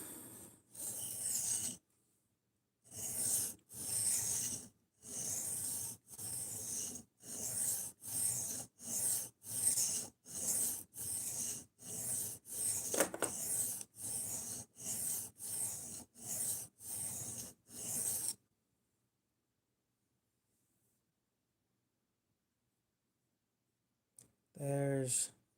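A knife edge is sharpened by hand in a long run of about twenty brisk, evenly spaced rasping strokes, close and clear, ending in quiet.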